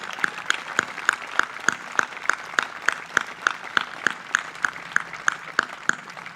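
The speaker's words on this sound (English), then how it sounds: "Everyone give them a round of applause" Applause for graduating students at a middle school graduation ceremony: a small audience claps in a steady, evenly spaced rhythm, each clap sharp and distinct, sustained for several seconds with no voices.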